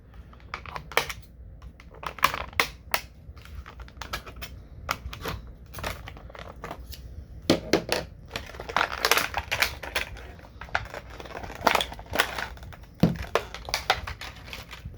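Scissors cutting twist ties: irregular bursts of sharp clicks and snips, some clustered, others spaced apart, close by with a faint background hum; no talking.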